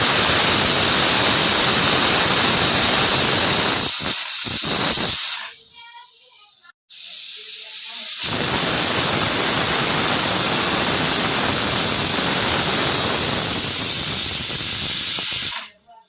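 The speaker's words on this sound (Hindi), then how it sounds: "हमारा पूरे 2 सीटी दे दिया है चावल में" Pressure cooker on a stove cooking rice, giving two long, loud, sharp steam hisses and whistles separated by a few seconds of near silence, with a brief clack in the gap.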